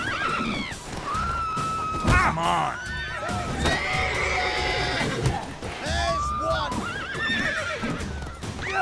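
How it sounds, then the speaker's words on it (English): Horses neigh and whinny in panic in The Witcher 3, several shrill calls overlapping with hoof clatter and a loud burst near the start, while someone speaks briefly over the commotion. "Look at these horses freaking out."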